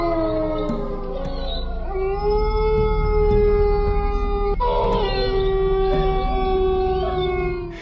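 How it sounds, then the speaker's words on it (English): Local dogs howl together in long, loud, wavering overlapping cries that rise and bend in pitch, continuing without pause throughout. "her presence had an unsettling effect on the local dogs, causing them to howl in response"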